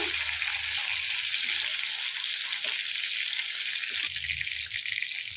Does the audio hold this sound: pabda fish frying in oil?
yes